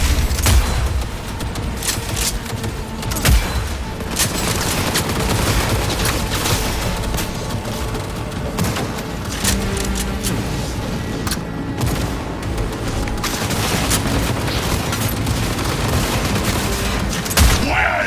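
Sustained heavy gunfire in the video game Cyberpunk 2077, a dense, continuous barrage of loud shots and bursts with occasional louder booms, running unbroken throughout with shouting mixed in beneath.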